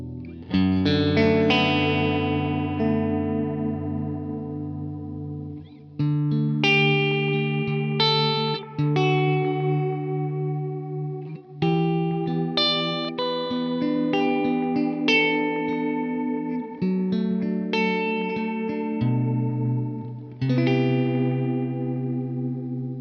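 Electric guitar played through the Adriatic Swell delay model on a Line 6 POD Go, notes fading in softly and blooming into lush, modulated repeats, phrases ringing one after another without pause.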